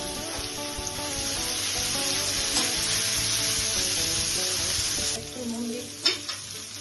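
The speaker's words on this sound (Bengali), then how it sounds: "ভেজিটেবল দিয়ে দিই, গাজর, বিনস, ক্যাপসিকাম, টমেটো সব দিয়ে এইভাবে নাড়াচাড়া করে নিচ্ছি।" Carrots, beans, capsicum and tomato stir-fried for mini chowmein dosa, giving a loud, steady sizzle with scraping stirs throughout, easing off near the end before a final clatter.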